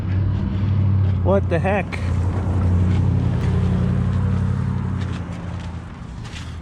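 A snowmobile engine held at open throttle, a loud steady drone under wind noise, with a person exclaiming briefly over it.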